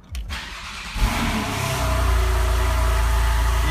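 Porsche 911 Targa engine starting, a brief starter crank followed by the engine catching with a burst of revs, then settling into a steady, loud, close idle.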